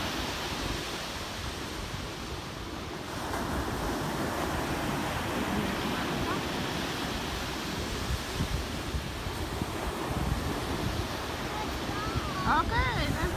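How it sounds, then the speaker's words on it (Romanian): Sea waves wash steadily on a shore as a broad, continuous surf roar with light wind buffeting the microphone, lasting throughout at an even, moderately loud level. "un pic de valuri."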